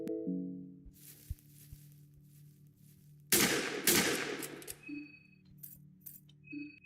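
Gunshots in the Fear and Hunger 2: Termina video game: a brief click and thud, then a loud blast of shots with rattling debris over a low ambient drone, trailing off into faint clinks.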